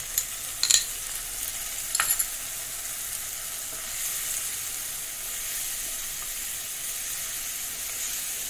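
A ball of spice paste for aar fish kalia sizzles steadily in a pan, with a few sharp stirring scrapes early on before the frying settles into an even hiss.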